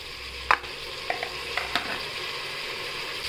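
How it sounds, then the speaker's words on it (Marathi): Garlic-ginger paste and tomatoes sizzle in hot frying oil in a pan, a steady close hiss with a few sharp pops and light stirring clicks, alone without talk. "लसूण आणि आल्याची पेस्ट टाकली, ती परतून घेऊया चांगली तेलात। आता आपण त्याच्यात 2 छोटे टोमॅटो टाकूया,"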